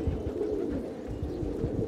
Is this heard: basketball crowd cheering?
no